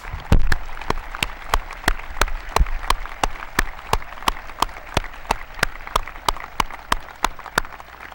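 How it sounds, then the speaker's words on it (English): A high school graduation audience applauds the teachers and faculty: a steady, even run of sharp claps, fairly close and moderately loud, continuing alone for several seconds. "And can we give our teachers a great round of applause?"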